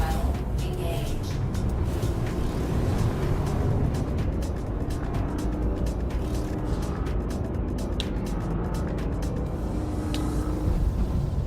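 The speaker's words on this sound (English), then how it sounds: "Annoying engine sound will subside in a bit." A spaceship engine in the Star Citizen game drones as a constant loud low rumble with a rushing hiss, steady throughout with faint crackles and no pauses.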